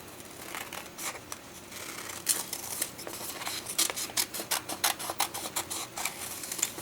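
Scissors snip repeatedly at close range, the cuts growing faster and more rhythmic toward the end over a faint background hiss.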